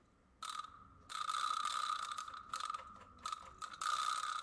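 A vibraslap rattling in several bursts, its buzzy metallic clatter ringing with bright tonal overtones, close and fairly quiet, with short pauses between strikes.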